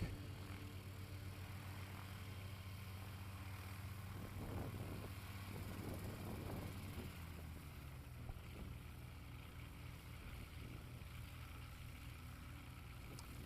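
Light STOL aircraft powered by an Apex engine taking off at an airfield STOL competition, a steady droning engine tone heard from a distance, with a brief swell around the middle of the run.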